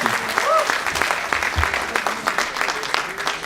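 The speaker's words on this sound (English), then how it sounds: "Let's give him a round of applause." An audience at an Afghan cultural event claps together in dense, steady applause that fills the room from start to end, with faint voices mixed into the crowd.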